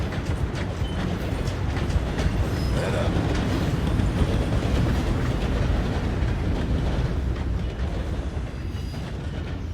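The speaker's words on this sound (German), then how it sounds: "Da rollt der Zug gerade lang hier." A train rolls steadily past in the video game Red Dead Redemption 2, a loud continuous rumble with rhythmic clickety-clack of wheels over rails, sustained and close throughout with no talking.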